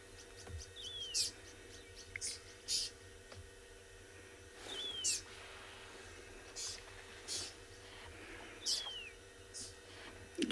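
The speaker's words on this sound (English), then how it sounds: "that is the sound of the oxpecker" Several short oxpecker calls ring out at intervals over a steady outdoor background on a South African morning safari, with sharp chirps and thin whistling notes coming and going.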